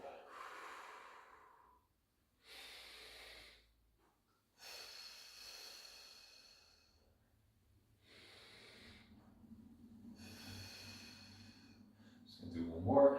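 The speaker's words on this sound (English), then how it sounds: "Breath in, and then breath out." Slow deep breaths drawn in and pushed out during a full-body relaxation stretch, several long airy inhales and exhales alone and close, with a low hum entering near the end.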